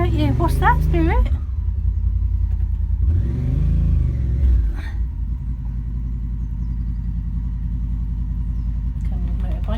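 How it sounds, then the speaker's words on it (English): A motorbike laden down with tools pulls up nearby, its engine note rising and falling in a steady mid-pitched drone, with a voice talking over it at the start. "Coming with motorbike, laden down with tools."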